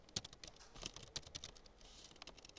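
Computer keys are tapped in quick, irregular clicks by someone writing code, faint and close, with no talk over it.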